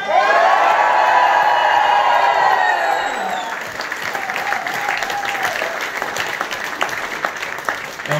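A crowd at an election results announcement applauds and cheers, with loud whoops and shouts at first that fade into steady clapping and scattered calls.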